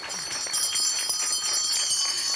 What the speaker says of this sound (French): Alors je me dis qu'on peut remercier Bernard en sonnant les cloches.